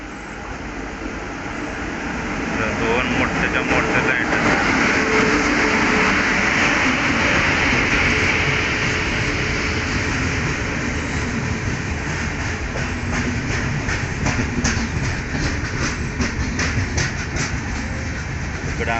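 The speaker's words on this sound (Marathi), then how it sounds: "आली बघा ट्रेन" A train pulls into a station at night, a loud rolling rumble of wheels and wagons that builds in the first seconds and then holds steady, with rhythmic clickety-clack throughout.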